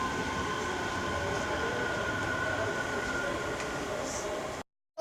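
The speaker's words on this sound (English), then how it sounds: "85014 is leaving with the 14:48 Scotrail service to Edinburgh Waverly from Glasgow Central." Scotrail train 85014 pulling out of Haymarket station in Edinburgh, a steady loud rumble of rail wheels and carriages with a faint high squeal, continuous until it cuts off abruptly at the end.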